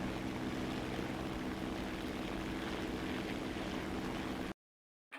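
Propeller aircraft engine in War Thunder droning steadily at full throttle, a continuous loud hum with strong low tones that cuts off abruptly near the end.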